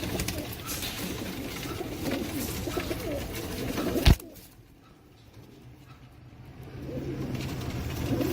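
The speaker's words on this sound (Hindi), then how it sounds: "ये देखो डब वाला कबूतर, डब वाला कबूतर दिखाओ।" Dub-type pigeons cooing at close range among a collection of fancy pigeons, with a steady murmur of cooing that drops away abruptly after a sharp bump midway, then slowly returns.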